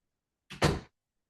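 A door swings open to let a dog in, a brief soft scrape followed by a short thud, single and close, in an otherwise quiet room.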